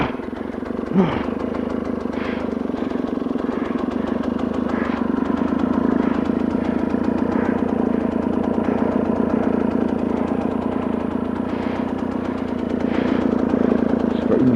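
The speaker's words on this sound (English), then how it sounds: "the motor's still running" A motorcycle engine idles steadily at low revs on a Colorado camper trip, a continuous close rumble with light mechanical clatter throughout and no speech over it.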